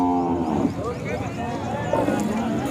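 Khillar cows at a busy cattle market in Sangola, with low lowing moos rising through a steady crowd murmur and nearby voices talking throughout.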